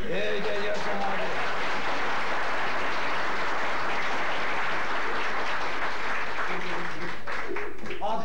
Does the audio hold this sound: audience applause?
yes